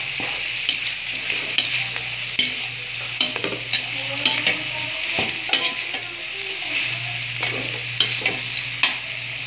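Chopped vegetables sauté in hot oil for fried vegetable lumpia, a steady close sizzle and fry broken by repeated clicks and scrapes of stirring throughout.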